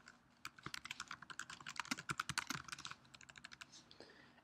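Rapid typing on a computer keyboard while entering a channel description, a close, clear run of uneven key clicks that speeds up in the middle and slows toward the end, with no talking.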